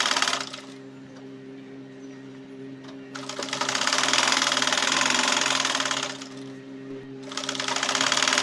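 A sewing machine stitches a half-inch seam along the side of a pillow cover, whirring in two sustained runs with a brief pause between them and then starting again, close and steady.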